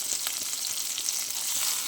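Steady, dense sizzling of a ground masala paste frying in hot oil for masala brinjal, close and continuous with faint crackles throughout.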